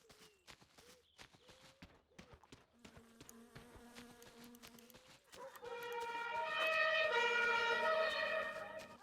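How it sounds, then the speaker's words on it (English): An ambulance siren in the driving game My Summer Car swells up in the second half, loud and steady with a wailing, layered tone. Before it come scattered clicks and short tones from the game. "Bloody loud city. Ambulance!"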